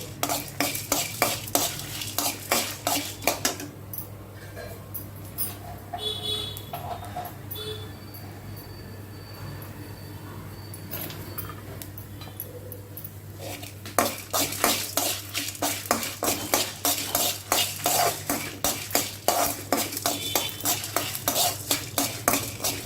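Spices including black pepper dry-frying in a pan with steady stirring, a long run of rapid scraping and clattering strokes, a quieter stretch of soft sizzle in the middle, then brisk stirring again, close and alone without talk.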